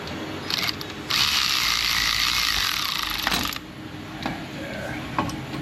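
Rapid ratchet clicking from a wrench on a wobble extension loosening an engine bolt on a Jeep Wrangler 3.6, in a long dense burst of close, loud clicks with shorter clicky bursts before and after.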